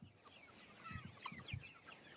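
Chickens clucking softly in a farm pasture, a few low, close clucks over a quiet outdoor background.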